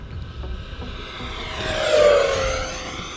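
An RC F-16 Thunderbirds model jet makes a full-throttle pass on a 3200 mAh battery. A rising, whooshing whine swells to a peak at mid-pass, then fades as the jet goes by, with no talk.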